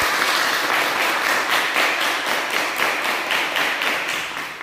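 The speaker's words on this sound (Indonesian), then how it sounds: "langsung kalian tepuk tangan ya" A class of students claps in unison during a physics lesson, rhythmic group clapping in a steady beat, close and loud throughout.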